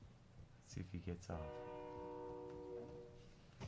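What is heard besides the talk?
train passing in Warzone video game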